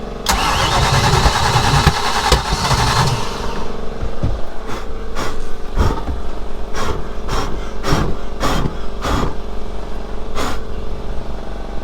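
A speedboat engine with retarded timing cranks loudly for about three seconds, then falls into a series of sharp, uneven knocks and pops as it struggles to run, with a steady mechanical hum underneath.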